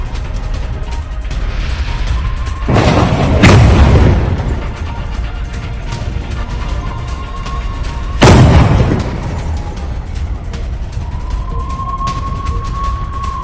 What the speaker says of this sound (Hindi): ये देखिए, एक के बाद एक यहां पर बम बरसाए जा रहे हैं।